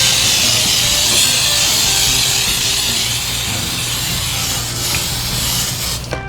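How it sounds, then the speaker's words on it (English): Non-stick cooking spray hisses onto a Bundt pan in one long, steady, loud burst of aerosol spray for several seconds, close up, with no one speaking. "go ahead and spray your pan."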